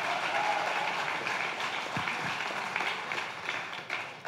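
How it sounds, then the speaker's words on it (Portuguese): A congregation at a Brazilian church service applauds during a pastor's sermon, a steady, moderately loud wash of clapping that fills the room without speech. "pode aplaudir, me ajuda aí a pregar."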